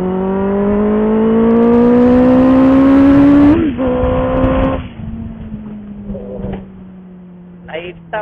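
A Benelli TNT 600i motorcycle revs hard and loud, its engine note climbing steadily for several seconds before a brief gear-change dip and a lower settled pull, then fading into quieter road noise with faint speech near the end.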